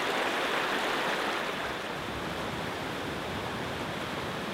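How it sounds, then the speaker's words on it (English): A stormy forest stream cascades over a series of stones into many small white waterfalls, giving a dense, steady, close roar of rushing water with no voices. "The stormy stream cascades over a series of stones, creating the effect of many small, white waterfalls."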